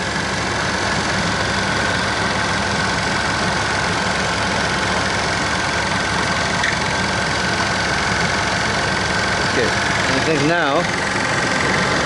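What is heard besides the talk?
car AC compressor running with engine idling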